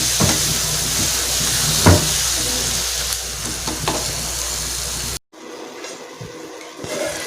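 Silver fish (nethli) thokku frying in a pan over a medium flame, a steady close sizzle and hiss with occasional stirring scrapes, cutting briefly to quieter simmering bubbles near the end.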